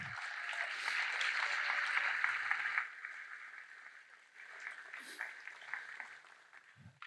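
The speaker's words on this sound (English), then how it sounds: "let's give them a round of applause" Applause from the audience at a medical school convocation ceremony: a steady hiss of many hands clapping, fairly faint and distant, swelling briefly and then tapering off.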